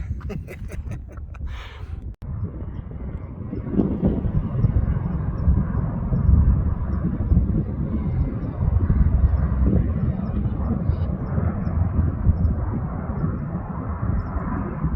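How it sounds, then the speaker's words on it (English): A military aircraft flies over Los Angeles, heard as a steady, loud broadband engine roar sustained throughout, with a brief handling thump near the start and no speech. "A lot of these military things flying around Los Angeles lately."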